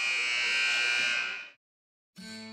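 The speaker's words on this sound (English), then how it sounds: "there's a three-point shot there from Candace Morgan near the end of the buzzer" A basketball game buzzer at a college women's game blares in one long, loud electronic tone for about a second and a half, then cuts off, followed by a brief burst of other sound.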